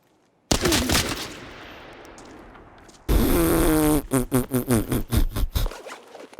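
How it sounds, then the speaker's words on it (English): Gunfire in the shooter game Arena Breakout Infinite: one sharp shot with a long decaying tail, then after a pause a loud sustained burst followed by a rapid string of about nine distinct shots, close and punchy. "I heard a shot behind me."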